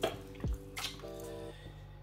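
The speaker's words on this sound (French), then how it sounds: "je vais peut-être rajouter un petit verre d'eau" A small glass of water is poured into a bolognese sauce for spaghetti, giving brief dripping and squishing splashes with a soft liquid trickle, close and quiet, with no talk.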